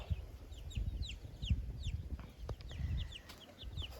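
Hen clucking in a farmyard with chicks about, soft repeated clucks over a noisy low rumble, with several sharp chirps above.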